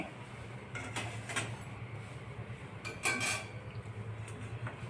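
Fried mataki samosas are set onto a plate with a few light clinks and taps of crockery and utensils, spaced apart over a quiet kitchen background.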